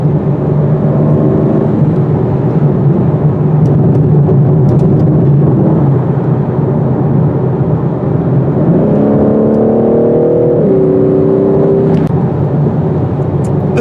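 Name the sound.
BMW M4 Competition car driving on road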